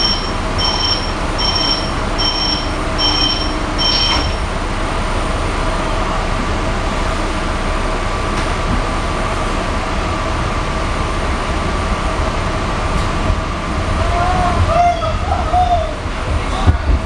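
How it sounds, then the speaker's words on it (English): PATCO commuter train riding the rails between Collingswood and Philadelphia, a loud continuous rumble and rattle from inside the car with brief high beeping tones early on and a faint squeal of wheels near the end. "The train."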